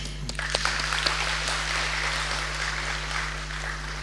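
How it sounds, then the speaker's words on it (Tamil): Audience applause at a Thirumurai festival and conference, a steady, fairly soft stretch of many hands clapping over a constant low electrical hum. "இங்கே அவருக்காக ஒரு கரகோஷம்"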